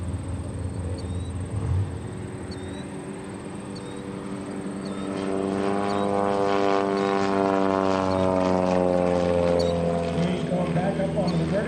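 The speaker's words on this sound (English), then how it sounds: "this airplane does what we call gentlemanly aerobatics" A low-horsepower propeller aerobatic airplane's engine drones nearby at an airshow, swelling louder and shifting in pitch as the aircraft climbs and maneuvers overhead.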